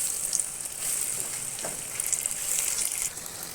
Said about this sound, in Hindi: अब ये तेल गरम हो गया है। अब इसको हम फ्राई कर लेते हैं।